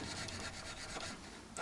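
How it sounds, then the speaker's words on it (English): Sandpaper rubbing steadily across the frets of a Yamaha SG2000 electric guitar, a continuous close, dry abrasive scrubbing with no pauses. "sand out all these frets through a series of grades of paper"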